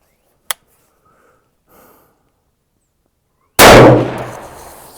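A short-barrel .30-06 rifle fires a 208-grain ELD-M load, one very loud, close, sharp blast with a long ringing decay, preceded by a faint click and a quiet breath.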